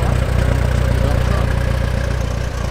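A 1966 International Harvester 1066 tractor engine runs steadily at idle up close, a loud, even low-pitched throb with regular firing pulses throughout.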